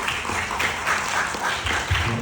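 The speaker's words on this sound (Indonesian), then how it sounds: "Tepuk tangan teman-teman untuk Raffi." Crowd applause, a steady wash of many hands clapping at moderate volume, sustained throughout without pause.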